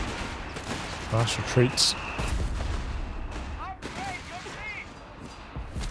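Machine gun fire in the Company of Heroes 3 battlefield, short bursts of gunfire with sharp cracks among battle noise, a commentator talking over it.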